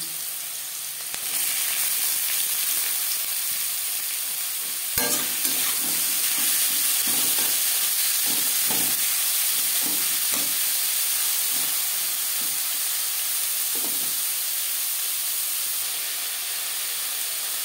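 Potatoes sizzle loudly as they drop into hot refined oil for crispy aloo bhaja. A dense, steady hiss of frying fills the pan, broken by occasional bursts and spatters.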